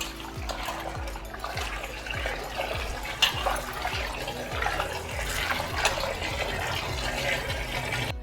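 Steady splashing and sloshing of water as potato slices are swirled and rinsed in a bowl, continuous and close by with no talking.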